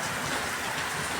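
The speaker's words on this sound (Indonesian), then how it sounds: "Di sini juga di depan rumah ada atap dan ada terocohan air hujan" Rain falls steadily and drips off a roof in front of a house in Jombang, a dense, even patter close by with no pauses and no voices.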